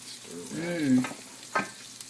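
Fresh sage leaves frying and being stirred in melted butter in a pan, a soft sizzle with a scraping stir, close and fairly quiet, with a brief clink near the end.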